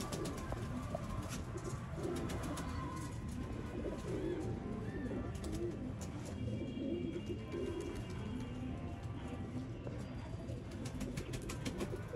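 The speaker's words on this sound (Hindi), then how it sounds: "माशाल्लाह जर्मन काले मुंह वाला कबूतर है" A German black-faced breeder pigeon coos in a loft, soft repeated throaty calls over a steady background hum.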